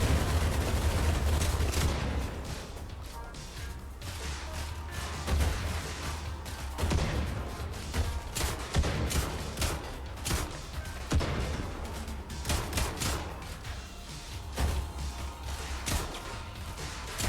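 Dense, rapid bursts of gunfire with heavy thuds and cracks crowd a combat scene in the video game Brigador Killers, loud and near, firing nearly continuously throughout with no talking.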